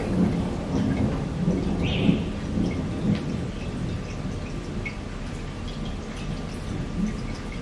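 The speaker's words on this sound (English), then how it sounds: "It's raining." Steady heavy rain pours down while low thunder rumbles through the storm, a continuous wash of falling water with a few deeper rolls and distinct drips, heard with no one speaking.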